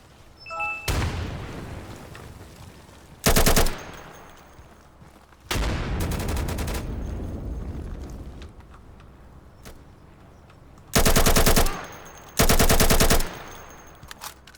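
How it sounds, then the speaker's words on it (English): Bursts of machine gun fire from a rooftop ring out in the video game New World, several loud rapid volleys separated by quieter stretches of game ambience and distant rumbling. "Machine gun from the top of the roof"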